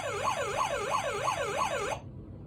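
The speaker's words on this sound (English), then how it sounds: "we have the horn, or siren too, I meant to say" A Hess 2000 toy fire truck sounds its electronic siren, a loud, close wailing tone that sweeps up and down in rapid repeated cycles for about two seconds and then cuts off abruptly.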